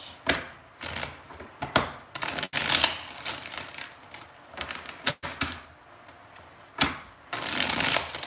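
A deck of reading cards is shuffled by hand several times close up, with papery riffles and flutters broken by sharp taps and snaps as the cards are squared, in irregular bursts.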